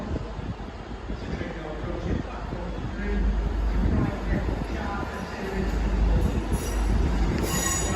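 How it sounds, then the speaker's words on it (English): A Midland Pullman HST train arrives at Cardiff Central, rolling in with a steady rumble and squealing wheels that build toward the end, alongside station ambience and voices. "now about to arrive on platform 3 at Cardiff Central"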